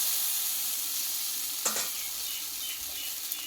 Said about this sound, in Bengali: বন্ধুরা মশলাটা কিন্তু আমার সম্পূর্ণ কষানো হয়ে গেছে